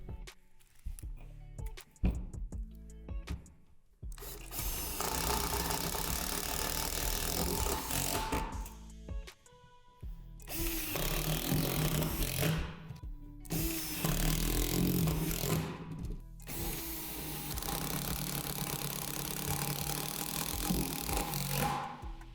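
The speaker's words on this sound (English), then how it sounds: "Secure the deck to the frame through the holes with the self-tapping screws" A cordless drill on high torque drives self-tapping screws through the metal frame of a Lifetime Big Stuff two-slide swing set deck, several loud whirring bursts separated by short pauses and clicks.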